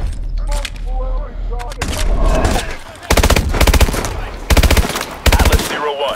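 Burst-fire gunfire from the video game Call of Duty: Advanced Warfare comes in loud, rapid volleys of several shots, separated by short pauses, alongside in-game voices and the wider noise of battle.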